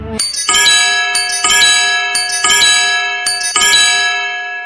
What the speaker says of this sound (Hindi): तभी लंच ब्रेक की घंटी बजी